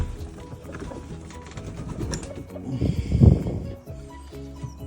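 Chickens in a village coop give soft, low clucking and cooing calls, close by and fairly steady, building to a louder burst midway, with no talking.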